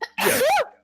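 A single sharp sneeze, close and loud, with a quick intake of breath just before it.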